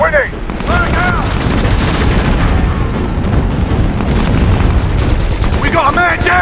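Frag grenade blasts and dense gunfire from a SOCOM 4 multiplayer team deathmatch, loud and continuous throughout, with shouting voices over the battle.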